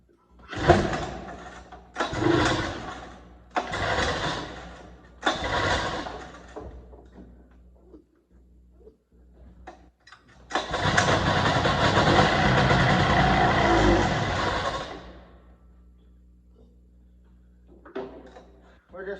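A Ski Whiz snowmobile engine is primed with several short pulls and bursts, then catches into a sustained roar for about five seconds before dying away, close by, with a voice briefly speaking between attempts.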